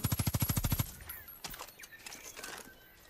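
Rapid machine-gun fire in Far Cry 5, a fast burst of about a dozen loud, evenly spaced shots that stops abruptly, leaving quieter scattered game sounds and faint bird-like calls.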